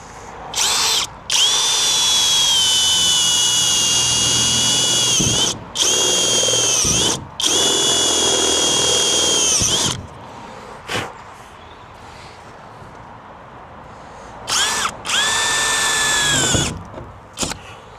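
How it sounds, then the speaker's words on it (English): A power drill with a step bit whines in several long bursts, grinding through a MAN TGE van's metal body with a high, shifting pitch, pausing between runs; close and loud. "Nice step drill."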